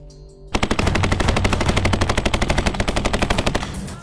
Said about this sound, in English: a challenging evolution where candidates must prove their grit under the added stress of simulated gunfire and smoke grenades